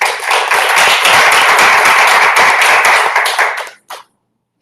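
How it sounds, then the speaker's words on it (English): A Toastmasters club meeting audience claps in a loud, steady round of applause that runs for nearly four seconds, then cuts off, leaving silence with a last faint tap. "Let's give her a round of applause."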